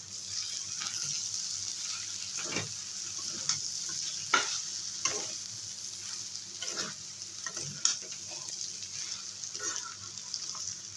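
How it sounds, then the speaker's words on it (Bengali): Bitter gourd with fish roe and pumpkin fries in a pan as it is stirred, giving a steady close sizzle broken by soft scrapes and clicks from the utensil. "এবারে ভালো করে নেড়ে দেবো।"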